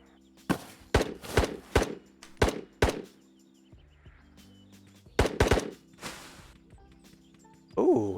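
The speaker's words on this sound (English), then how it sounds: "Ooh, are those tracer rounds?" Gunfire with tracer rounds in the virtual reality shooter Ghosts of Tabor, sharp single shots in two quick clusters separated by a quieter gap of low rumble, fairly close, with no talk.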